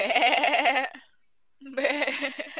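A goat bleats in two long wavering cries, close and loud, with a brief silent gap between them.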